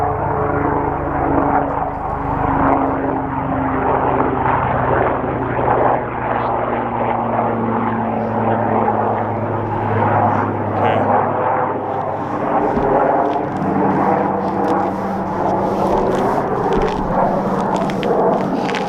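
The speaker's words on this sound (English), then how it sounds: "Yeah, that's just a helicopter." Steady loud rotor and engine drone of a helicopter passing overhead, rumbling continuously throughout with no talking.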